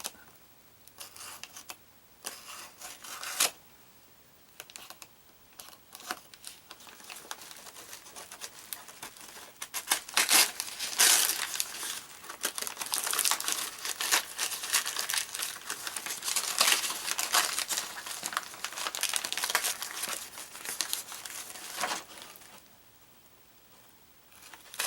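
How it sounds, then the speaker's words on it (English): A utility knife slicing packing tape and a parcel being opened: scattered crinkling, scraping and tearing, quiet at first then denser and louder in the middle, close by and without talk. "Just cut the tape."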